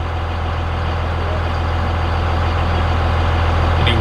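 A tuned Cummins diesel truck engine holds a high idle, a loud, steady droning rumble with a constant low hum that swells slightly toward the end, alone and close by.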